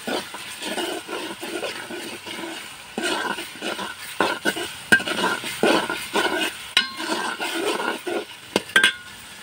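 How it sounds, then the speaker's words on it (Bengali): Chopped tomatoes go into onions frying in a pan and are stirred: repeated scraping strokes of a spoon and light clinks against the pan over a soft sizzle, close and fairly loud, with no voices. "এই যে এখন আমি দিয়ে দিচ্ছি টমেটো কুচিগুলো"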